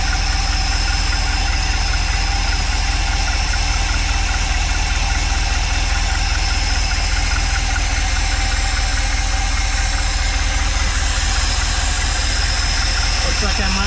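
A Mopar car engine with a freshly rebuilt carburetor idles steadily and loudly close by, a constant mechanical drone with a slight knock running the whole time, and a voice is heard over it.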